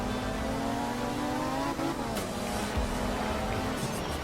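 A car's engine revs hard under full throttle on a wet, rainy surface as the wheels spin, a steady loud drone with a short dip in the middle.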